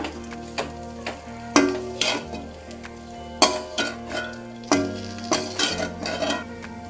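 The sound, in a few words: stirring chilli parotta mixture in a pan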